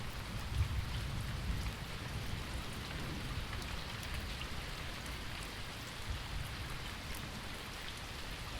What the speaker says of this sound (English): the rain starts to fall with greater force